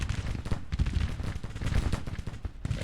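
In a Civil War battle video game set north of Sharpsburg, dense rolling gunfire crackles without pause, with heavier booms of artillery mixed in, loud and continuous.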